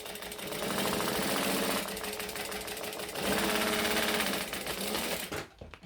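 A sewing machine running fast while top stitching fabric, a loud, steady mechanical whirr with a rapid needle rhythm, briefly changing pace midway and stopping near the end, close up with no talking.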